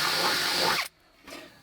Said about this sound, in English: using a drill and drill bit, I'm going to put a hole right here in the center of this line